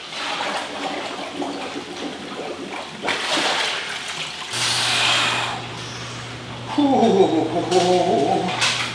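Splashing and rushing water as a person gets into freezing cold water for a cold plunge, with bursts of sloshing and a steady low hum throughout, loud and close.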